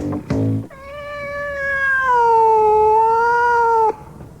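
A ship's cat gives a long drawn-out meow after a short chirping call, loud and close, the tone rising then easing over several seconds before cutting off abruptly.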